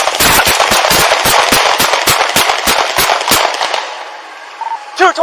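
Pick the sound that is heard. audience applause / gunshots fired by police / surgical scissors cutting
gunshots fired by police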